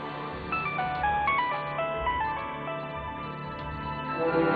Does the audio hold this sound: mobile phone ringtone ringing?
yes